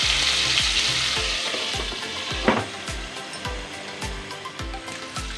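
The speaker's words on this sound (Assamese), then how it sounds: "এয়া মই ফুলকবিখিনি প্ৰথমতে ফ্ৰাই কৰি লওঁ।" Cauliflower florets frying in a pan over medium heat, a loud continuous sizzle with steady rhythmic scraping and stirring strokes, close up and with no talking.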